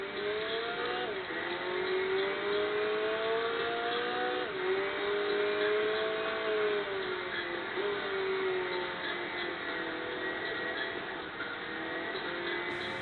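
Abarth 1000 TCR race car in the Enthusia driving game, its engine droning steadily through a full lap at high revs, pitch rising and dipping with throttle and gear changes, continuous and close throughout.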